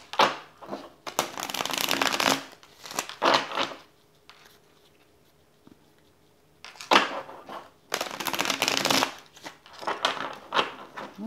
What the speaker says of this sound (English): I'm going to shuffle them a couple more times.